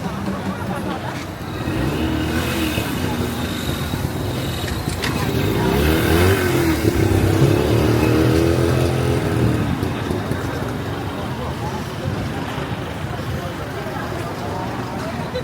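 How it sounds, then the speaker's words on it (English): Cars move slowly through a crowded Bangkok street during Chinese New Year celebrations, engines rumbling and revving under a steady wash of crowd noise and chatter, with people talking nearby throughout. "For some reason they've started letting cars through"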